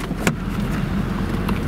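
ABC suspension on a Mercedes SL500 raises the car, a steady low hum and faint whir with a brief click, heard close inside the vehicle without speech.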